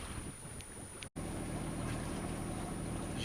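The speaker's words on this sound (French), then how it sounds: "J'ai mis le moteur, voilà." Sailboat engine running during a Corsican coastal cruise from Porto Vecchio, a steady low drone with wind noise, briefly cut out before resuming continuously.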